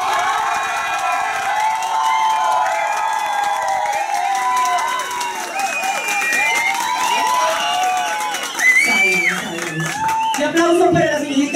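A studio audience at a televised drag diva show cheers, whoops and applauds steadily throughout, a dense, loud crowd roar that swells near the end, with voices shouting over it.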